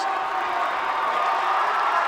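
A high school boys' varsity basketball crowd in a gym cheers and shouts in a loud, continuous roar during the final seconds of the game.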